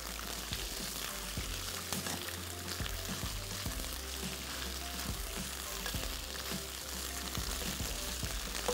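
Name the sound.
frying ginger garlic paste with meat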